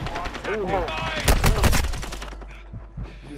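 Bursts of rapid automatic gunfire from the Call of Duty 2 video game, loud and close, peaking in the middle and thinning to a few scattered shots, with game voices and player chatter mixed in.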